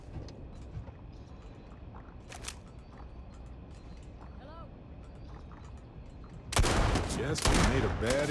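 A turret in the space game Starfield opens up in a sudden loud, rapid volley near the end, following a stretch of low background ambience with faint effects and speech.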